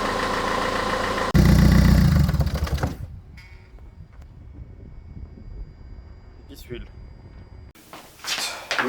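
A Renault Trafic van engine idles loudly and evenly, running smoothly without jerks, then cuts to a quieter stretch with small clicks and rustles before the running sound returns.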